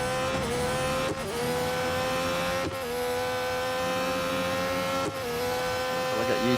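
A fully upgraded race car in Real Racing 3 at Interlagos, its engine holding a loud steady whine, with brief dips at gear changes, and a faint tire squeal near the end.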